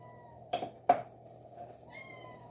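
A cat in a home kitchen gives two short, soft meows in quick succession, followed by a faint, thin higher cry against quiet room noise.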